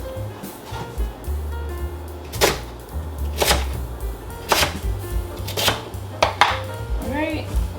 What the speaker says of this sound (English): And then you're just going to cut these halves into chunks.